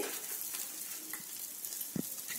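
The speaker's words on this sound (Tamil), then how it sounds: "இது ஃபுல்லாவே நல்லா வதக்கணும்" Garlic and green chillies sautéing in a pan for mushroom gravy, giving a steady close sizzle with a couple of brief utensil taps near the end, no talking.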